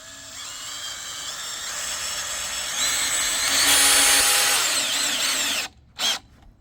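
A power drill with a 5/16 drill head drives a screw into a VEVOR heavy-duty 4x4 three-way pergola corner bracket on wood, a loud, steady whine that rises in strain, cuts off, then gives one short final burst.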